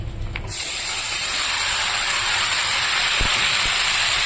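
Vegetables dropped into a hot pan just after frying fish, a sudden loud, bright sizzle that starts after a brief clatter and then holds steady and strong close by.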